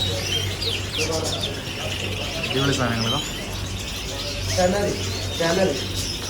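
Caged birds in a bird shop chirp and coo in scattered short calls, some near and some farther off, while people talk among them.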